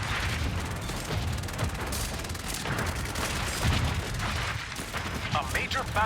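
Battle gunfire and artillery crackle and boom in the strategy game Battleplan, a steady dense barrage of shots and thuds with a voice talking over it.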